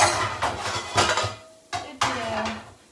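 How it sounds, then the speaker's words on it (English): A pan is grabbed for a sautéed spinach and puffball mushroom dish, clattering against other cookware in a few sharp metallic knocks with brief quiet gaps, close and fairly loud. "Grabbing a pan right here."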